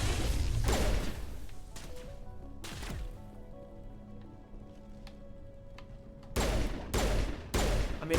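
Bursts of rapid gunfire in Mass Effect Legendary Edition rattle loudly at the start, pause for a quieter stretch of humming game ambience, then return as three sharp volleys near the end.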